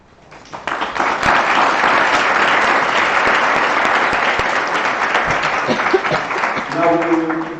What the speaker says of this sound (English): Round of applause for our please.